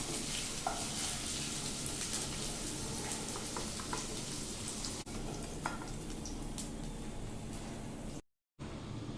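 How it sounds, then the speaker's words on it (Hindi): Paneer cubes frying in a pan, giving a steady close sizzle and crackle with light stirring scrapes throughout, then a sudden brief dropout near the end. "पनीर को भी हल्का फ्राई करेंगे। पनीर भी फ्राई हो गया, इसको निकाल ले रहे हैं।"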